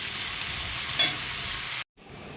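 Potatoes fry in a pan with a steady, moderately loud sizzle. A brief scrape of stirring comes near the middle, then the sound cuts off abruptly and returns fainter.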